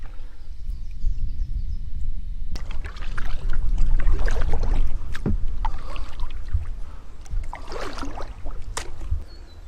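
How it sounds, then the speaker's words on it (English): A solo kayak paddles back through the Everglades, its strokes splashing and dripping close by in uneven bursts over a steady wash of wind and water. "time to enjoy this paddle back"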